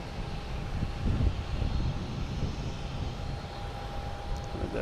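An Alaska jet airliner at Boston's Logan Airport idles and taxis with a low steady engine hum and faint whine, fairly quiet and continuous, with no voices.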